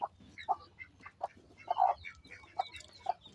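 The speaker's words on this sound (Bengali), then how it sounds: "তো এই যে দেশি মুরগির বাচ্চা অনেকগুলা" Desi chickens and chicks cluck and peep close by in a farmyard, with several short, sharp calls at irregular intervals over a quiet background.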